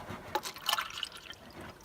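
Clean distilled water poured into a cup, a light close trickle with a few brighter splashes and drips over a quiet background.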